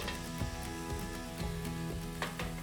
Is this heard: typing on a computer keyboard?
no